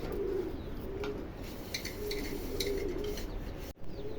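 Muffed Helmet fancy pigeons, a yellow full-marked pair, coo softly at a pigeon farm, low repeated murmuring calls over steady background noise with occasional faint chirps.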